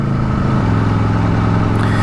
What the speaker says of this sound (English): So what you're hearing is a stock exhaust with a permanently